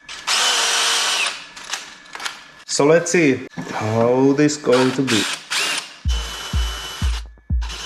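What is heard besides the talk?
power drill drilling aluminum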